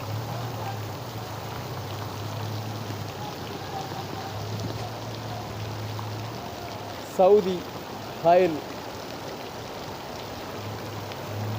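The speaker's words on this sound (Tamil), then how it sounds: "மழை எப்படி பெய்யும் பாருங்க." Rain falls steadily and evenly in Hail, Saudi Arabia, a broad wash of sound running through the whole stretch, with someone speaking briefly over it near the end.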